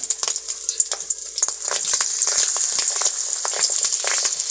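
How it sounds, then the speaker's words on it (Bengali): Spiced bata fish roe dropped into hot oil, a loud close crackling sizzle with sharp pops and spits throughout, no voices. "এখন একটু ভেজে আপনাদের সামনে দেখাবো তেলটা আমরা একটু গরম করে নিচ্ছে"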